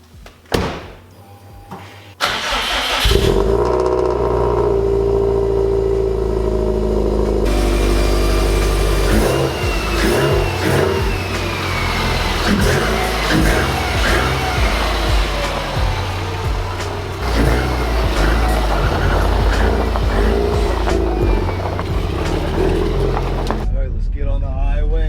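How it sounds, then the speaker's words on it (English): A turbocharged 500HP Subaru STI engine cranks on a cold start and fires up, then settles into a loud, steady idle with occasional revs, close by throughout. "First cold start for the boys of the season."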